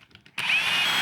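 A power drill starts up after a few soft taps and runs steadily with a loud, high whine, drilling a hole in an RC truck build.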